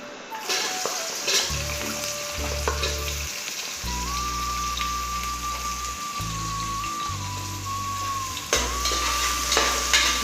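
Sliced onions sauté in hot oil with cinnamon, giving a loud, steady sizzle and spatter close by. Low-pitched tonal notes run underneath, with a thin whine near the end.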